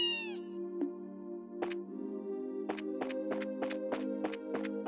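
A cat meows repeatedly in the video game Trails in the Sky, several short close meows in quick succession over a steady musical background with no talking.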